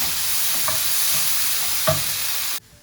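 A kathi roll filling is stirred in a bowl with a steady wet hiss, broken by two soft scraping knocks of the spoon, before it cuts off to near silence.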